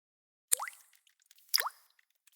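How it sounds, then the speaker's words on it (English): A leaky shower head drips into water, two clear, resonant plops about a second apart with a faint third starting at the end, close and isolated against near silence. "That sound is the leaky shower head that came with your rental"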